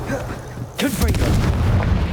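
A loud booming Confringo spell explosion in the video game Hogwarts Legacy, a sharp burst landing midway with a rumbling low tail, set against a background of steady game noise; a spoken voice is mixed in with the blast.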